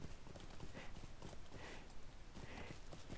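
Steady clip-clop of a horse's hooves in a video game, an even walking rhythm of close, crisp hoof beats with no talking over it.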